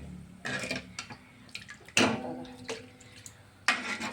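Water is poured into a pot of misal curry in several separate splashing bursts, close and fairly loud, with quieter liquid sloshing and faint clinks between pours.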